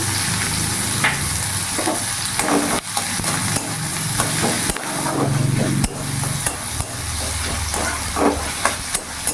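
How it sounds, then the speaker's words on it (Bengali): Chopped onions frying in hot refined oil in a heated kadai for an egg curry, a steady loud sizzle and hiss with occasional stirring scrapes, no voices. "তেল গরম হয়ে গেছে, এখানে আমি পেঁয়াজ কুচি দিয়ে দিলাম।"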